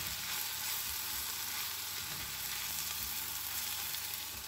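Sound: garlic sizzling in a pan with onions

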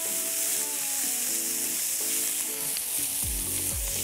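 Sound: diced meat sizzling and browning on a hot disco pan

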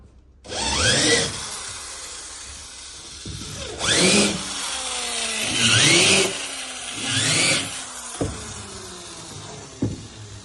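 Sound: drilling wood with a countersink bit

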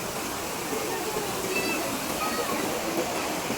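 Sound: flowing stream water

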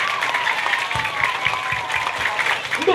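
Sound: applause for SDN Kampung Sawah 1

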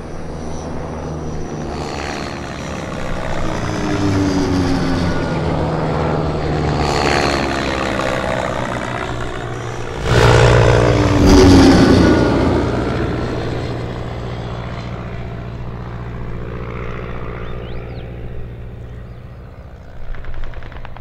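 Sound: military aircraft approaching overhead

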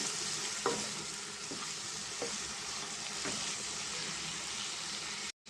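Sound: chili powder and coriander-cumin powder frying in oil for curry

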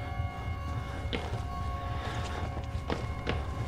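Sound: running footsteps in the video game Outlast

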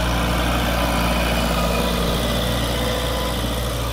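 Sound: YTO Ecomaster 404 40 hp tractor engine idling

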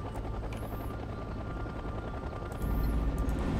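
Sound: helicopter in a video game

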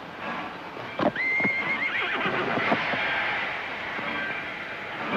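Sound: horse neighing and hooves

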